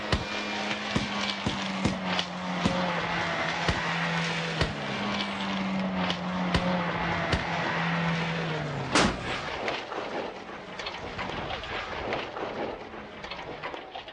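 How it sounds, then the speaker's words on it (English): A car rollover crash from the action film Fatal Deviation: an engine drones while sharp thuds and bangs repeat, a heavy impact strikes near the middle, then scattered crunching knocks follow. "That was a real rollover"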